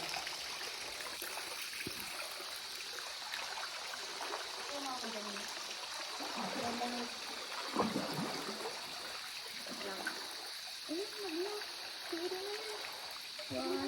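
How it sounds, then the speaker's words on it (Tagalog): Water sloshing and trickling inside a small boat on an underground river, a faint continuous wash with splashes while people talk and exclaim over it. "sobrang daming tubig na sa loob ng bangka"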